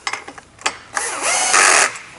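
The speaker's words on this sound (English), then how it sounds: "and my drill." A power drill bores a locating hole in a steel conveyor frame during assembly, with a few short bursts followed by a sustained high whine, loud and close, no talking.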